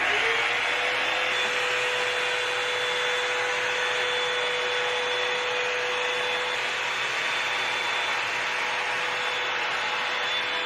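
A Revlon One-Step hair dryer blows steadily while drying 2c-3a curly hair, a loud continuous airy roar with a thin motor whine that holds unchanged throughout.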